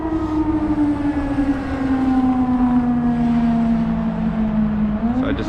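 An air raid siren sounds near Russia's border, a loud continuous wail that holds steady and then slowly drops in pitch, with a second tone faintly underneath before it rises again at the end.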